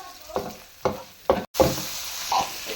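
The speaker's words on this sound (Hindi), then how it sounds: "हल्के जे प्याज फ्राई कर लेंगे, क्योंकि कच्चा प्याज नहीं अच्छा लगता" Onions fry in a pan for stuffed bitter gourd, a close sizzle punctuated by several stirring scrapes at uneven intervals, with a brief dropout midway.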